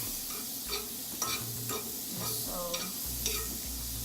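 Butter sizzles in a skillet ahead of an omelette, a steady close crackle and hiss broken by a few soft scraping stirs, with a single brief spoken word.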